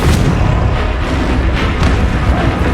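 Confringo blasting spell explosions in Hogwarts Legacy, dense loud booming bursts rolling continuously with no gaps.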